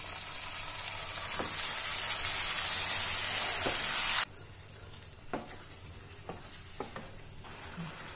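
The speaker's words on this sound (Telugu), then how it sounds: "ఇలా చికెన్ వేసిన తర్వాత కొంచెం హై ఫ్లేమ్లో పెట్టుకొని ఇలా ఫ్రై చేయాలి కొంచెం సేపు" Marinated chicken pieces hit hot oil over a high flame with onion slices, giving a loud steady sizzle with a few sharp stirring clinks; after about four seconds the hiss drops to a quieter frying murmur with scattered utensil knocks.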